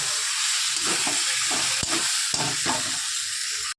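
Eggplant and fish-head curry with coriander leaves sizzles and hisses in a hot pan, with a few scraping stirs cutting through the steady frying noise before it cuts off.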